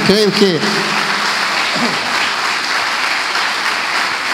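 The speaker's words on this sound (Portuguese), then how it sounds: "aplauda o Senhor" A church congregation breaks into loud, sustained applause, steady clapping filling the room from start to finish, with a brief voice at the beginning.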